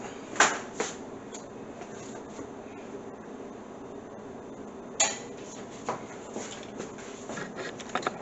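Dishes and an immersion blender are washed in a kitchen sink, with faint running water under scattered clinks and knocks of utensils and pots, quiet and close.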